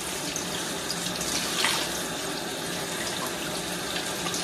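Lukewarm water poured into a plant pot with no saucer, running straight through the soil and out the bottom, a steady, close splashing trickle that stays even throughout.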